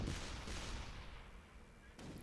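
Torpedoes fired in the video game ShellShock Live, a rumbling burst of blasts at the start, another around mid-way, and a fresh boom near the end, fairly loud and up close.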